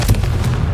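One sharp, loud blast of the Confringo explosive spell in Hogwarts Legacy, a quick booming burst with a low thump that tails off within a second.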